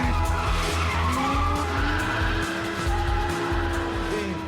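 An Audi R8 V10 convertible's engine roars loud and close, a continuous rising and falling mechanical drone with tire noise mixed in, held steadily for several seconds.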